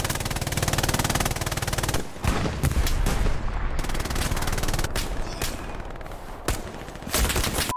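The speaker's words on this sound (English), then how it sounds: "why are we shooting?" Machine gun fire in the Hell Let Loose war game, long rapid bursts of automatic shots close and loud, broken by brief pauses and separate sharp single reports, over a constant din of battle.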